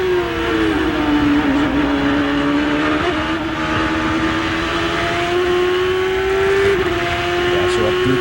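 Jimmy Vassar's Ford-powered PKV Champ Car at Cleveland, its engine loud and close, pitch climbing steadily as it pulls up through the gears with brief dips at each shift, with commentary talking over it.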